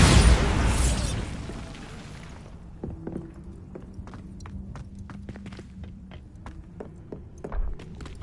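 A Bombarda spell explodes in the video game Hogwarts Legacy: a loud, broadband blast fills the opening two seconds and then decays into a quieter rumble, with scattered clicks and small pops following across the rest of the scene.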